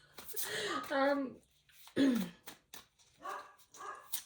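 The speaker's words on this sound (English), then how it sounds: "sweetie's barking" Sweetie, a pet dog, barks in several short bursts nearby while someone talks between and around the barks.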